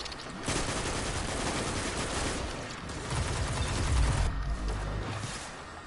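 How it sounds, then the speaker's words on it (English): Rapid, loud bursts of fusion rifle fire in Destiny 2 during a firefight, dense crackling shots running continuously with a heavier low thump near the middle and no talking. "This is a fusion rifle, by the way."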